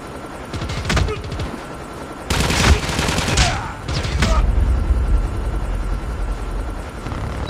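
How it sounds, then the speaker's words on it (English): Call of Duty gameplay with a hostile stealth chopper: a continuous helicopter rotor drone under bursts of rapid gunfire and heavy shots, loud and close, with game voices over parts of it. "Hostile stealth chopper inbound. Be advised, hostile stealth chopper inbound."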